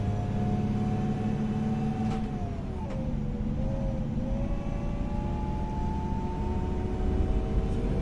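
Iveco Evadys coach bus driving in OMSI 2, a steady loud engine drone with a rising and falling whine as it cruises, continuous throughout.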